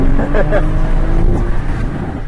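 Jaguar S-Type saloon engine roaring steadily while drifting on a wet track with left-foot braking, a loud continuous drone that fills the moment, with a voice faintly underneath.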